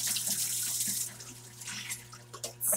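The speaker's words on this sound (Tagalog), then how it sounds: "samahan niyo ako mag-hugas ng plato" Dishes are washed under a running kitchen tap, with a steady hiss of flowing water and brief clinks as the stream shifts, fairly close and quiet, with no talking.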